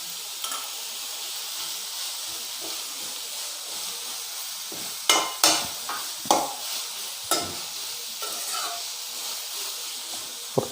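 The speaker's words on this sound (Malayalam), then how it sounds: "ഉപ്പ് ചേർത്ത് നന്നായി വഴറ്റിയെടുക്കുക കേട്ടോ. ഇതിലേക്ക് നമ്മളൊരു 2 പച്ചമുളക് ചേർക്കുന്നുണ്ട്." Onions sautéing with salt and two green chillies in a pan for egg roast, a steady hissing sizzle with a cluster of sharp spatula scrapes and knocks midway, close and without speech.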